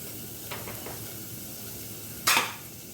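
Vegetable sabzi with turmeric powder and salt being stirred in a pan: a low steady sizzle with a few soft scrapes, then one loud, sharp scrape of the spoon near the end.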